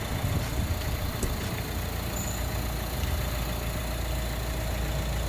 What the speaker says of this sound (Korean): 차 소리를 들려드리기 위해서 약간 시동을 켜고 소리를 한번 이제 핸드폰으로 그냥 영상을 찍어봤습니다